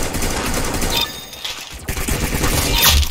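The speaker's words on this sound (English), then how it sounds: "Very good shooting!" Gunfire in the Roblox shooter Arsenal: dense, rapid bursts of shots crackling in the foreground, a short lull, then more clattering fire with a sharp shattering hit near the end.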